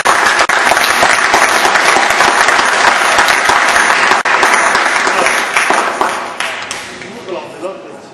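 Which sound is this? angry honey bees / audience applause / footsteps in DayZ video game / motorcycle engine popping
audience applause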